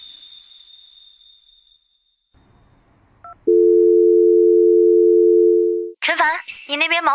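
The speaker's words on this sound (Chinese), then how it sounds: "给雪妍打个电话，问问结束了没。" While a call is being placed, a phone line gives a single steady ringback tone lasting a couple of seconds after a short click and faint noise, and then a voice answers and starts talking.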